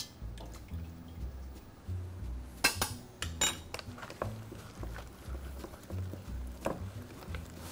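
Potatoes pressed through a hand-cranked food mill for purée, giving scattered metallic clinks and scraping clatters over a low steady rumble, with a sharper cluster of knocks in the middle.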